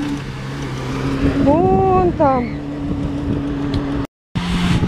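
A car engine revs and strains as the vehicle pulls itself out of sand on the beach of the Kapchagay reservoir, a steady drone rising into swelling whines, heard under nearby conversation.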